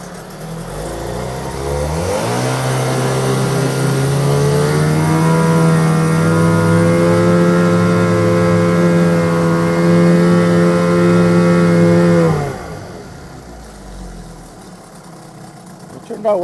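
A 1979 Johnson 9.9 hp outboard motor in a test tank starts with a rising whine and runs at a steady, loud drone for about ten seconds, then shuts off. Quieter ambient noise follows.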